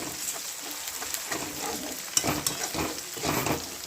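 Pav bhaji masala with onion sautéing in a pan, a steady close sizzle and crackle with soft scraping stirs throughout, no talk.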